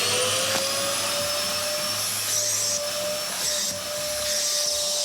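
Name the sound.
vacuum cleaner running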